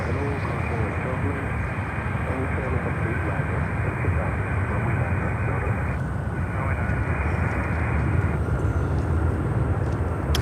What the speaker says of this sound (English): Baby liner 787-8 American Airlines, they have quite a few of them.